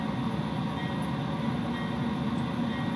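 Locomotive cruising at 90 mph in a train simulator game, a constant dense rumble of engine and rolling wheels with a faint clatter, steady and loud throughout with no voice.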